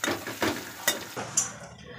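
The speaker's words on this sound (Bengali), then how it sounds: "আর এদিকে কুমড়োটা ভাজছি" Pumpkin pieces frying in a pan give off a soft sizzle, punctuated by a few sharp clinks and scrapes of a utensil stirring against the metal, close by.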